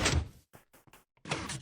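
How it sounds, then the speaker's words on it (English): A Minecraft redstone piston door opening and closing, with a loud whooshing slide, a run of quick mechanical clicks and taps, then another sliding whoosh, all close and with no talking. "now we should be able to get out and in with a cool little piston door"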